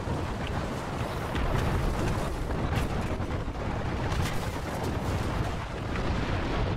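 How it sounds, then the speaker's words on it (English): An artillery strike demolishing a building in a tank video game, a dense, continuous rumbling roar of blasts and crumbling debris that stays loud and sustained for several seconds. "look at that building just get demolished by the anti-air or the artillery strike"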